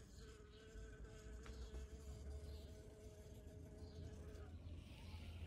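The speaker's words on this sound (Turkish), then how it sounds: "Buraya arılar giriyor çıkamıyor. Sesi duyuyorsunuzdur. Arka planda vız vız." Steady buzzing of bees trapped among flowering succulents fills the background with a low drone and thin whining tones, faint and continuous throughout.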